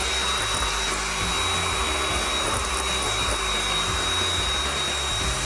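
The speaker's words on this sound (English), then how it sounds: "that's the best way of whipping up egg whites" An electric mixer whips egg whites with sugar in a home kitchen, giving a steady, loud, even motor whir with no break.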